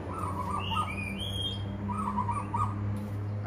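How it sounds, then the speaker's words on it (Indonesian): An Oriental magpie-robin, a local Bornean kacer kept as a caged pet, gives a few high whistled chirps and sweeping calls over a steady low hum, fairly close and moderately loud. "Ini kacer Borneo lokal"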